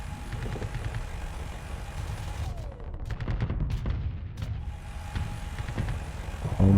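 Dense spaceship gunfire in the video game Starsector, a continuous rattling barrage with rapid repeated shots and engine-like hum underneath, loud and sustained throughout.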